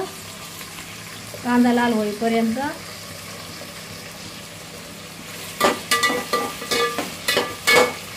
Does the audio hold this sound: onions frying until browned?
yes